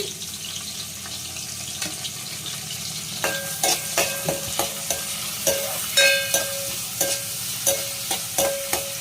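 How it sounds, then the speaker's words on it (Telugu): Curry leaves fry in a pan with a steady sizzle, while a utensil scrapes and taps the pan in a regular stirring rhythm that grows clearer midway through. "ఇది లైట్గా బ్రౌనిష్ కలర్ వచ్చే వరకు వేయించాలి"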